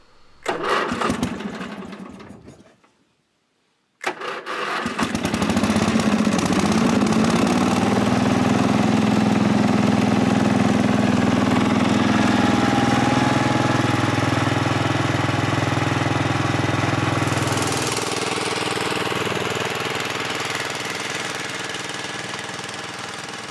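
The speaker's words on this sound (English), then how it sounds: "Now all that's left to do is give it a start and try it out." A Roper RT/16 garden tractor engine cranks, falls silent briefly, then catches and runs at a steady loud rumble, with the pitch shifting as the throttle changes before easing back slightly near the end.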